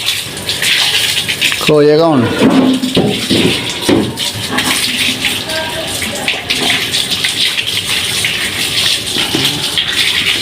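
Water gushes and splashes steadily while a pet dog named Moti is bathed, water poured over its head; excited voices talk and call out over the continuous pouring throughout.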